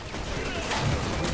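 Rapid gunfire in the Battlefield video game: a dense, steady fusillade of shots running the whole moment at a constant loud level, with bursts blurring together.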